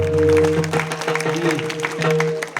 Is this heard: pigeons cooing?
no